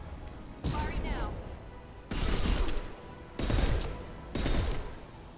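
Sniper rifle fire in a video game played on Insanity difficulty: four heavy, booming shots spaced about a second apart, each with a rumbling tail, loud and close.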